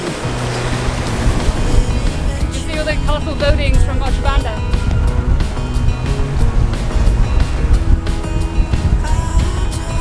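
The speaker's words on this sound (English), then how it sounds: "We've got some quite big waves to surf" Big ocean waves rushing and hissing around a sailboat running downwind off Curaçao, a continuous loud churn with wind, under people talking and a brief high-pitched voice.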